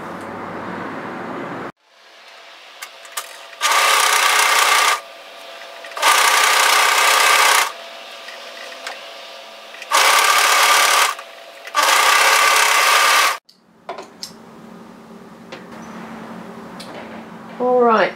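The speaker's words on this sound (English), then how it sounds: "we're going to serge across." A serger stitches across the edge of a knit cardigan in four loud, steady bursts of a few seconds each, separated by pauses, with a voice speaking quietly in the gaps.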